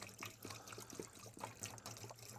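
Water is poured into the radiator of a WW2 jeep, a faint, close trickle with small irregular splashes and gurgles throughout.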